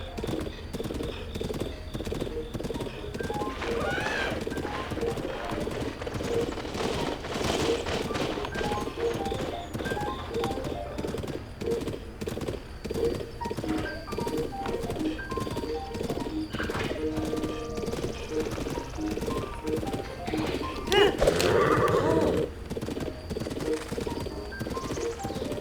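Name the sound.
horse hooves and neighing in Breath of the Wild video game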